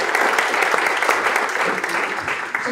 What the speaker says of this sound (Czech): Poprosím vás o potlesk a obě dámy přicházejí